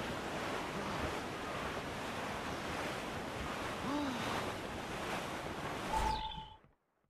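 Ocean waves in the sailing game Assassin's Creed 4 Black Flag: a steady wash of surf and wind, with a faint tonal creak midway, before fading out at the end.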